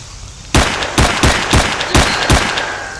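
Gunfire from STALKER: Shadow of Chernobyl: six sharp, loud shots fired in a quick uneven string, each with a short echoing tail over a low background hum.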